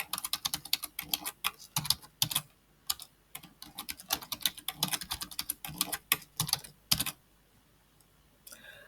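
Rapid bursts of typing on a computer keyboard as a username and password are entered, close and crisp, with short pauses between runs of clicks and no talking.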